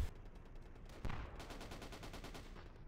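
Gunfire in the WWII Online video game, a faint, distant burst of rapid automatic shots with one sharper crack near the start and a quick rattling run of shots after it.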